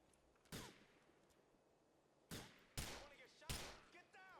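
Sharp gunshot blasts from GTA IV, four separate bangs with gaps between, set against a quiet background of game sound.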